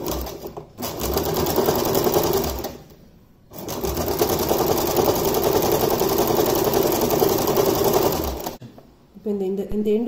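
A sewing machine fitted with an embroidery foot stitches embroidery in steady close mechanical runs, pausing briefly twice, with a voice speaking over it near the end.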